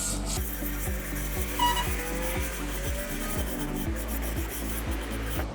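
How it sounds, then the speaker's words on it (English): A stiff scrubbing brush works cleaning product into Indian stone paving in steady, rhythmic back-and-forth strokes, close and fairly loud, with no voices. "So we'll just use the scrubbing brush."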